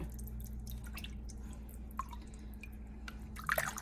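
Manhattan-style seafood chowder is stirred in a pot, giving faint, sparse wet drips and soft squelching clinks of a spoon over a low background hum, close by with no voices.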